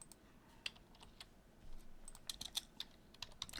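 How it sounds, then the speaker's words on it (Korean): Quiet typing on a computer keyboard, including a Ctrl+backtick shortcut, as a steady run of light key clicks that grows busier toward the end, over faint room hiss. "먼저 컨트롤 백틱을 눌러서"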